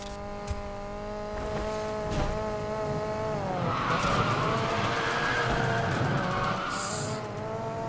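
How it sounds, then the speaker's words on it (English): A car drifts in Need for Speed Payback's Speedcross mode, its engine holding a loud steady drone while tire squeal screeches continuously beneath it. "Kind of nailed that drift for a change."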